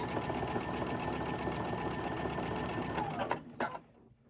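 Sewing machine running steadily as it stitches quarter-inch quilt seams with pins in place, a fast continuous whirring hum close by that stops abruptly near the end.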